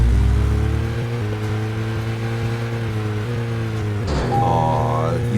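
A car engine idles and drones in the video game Deadly Premonition, a steady low hum that holds for several seconds. It then shifts pitch sharply near the end as the engine revs up.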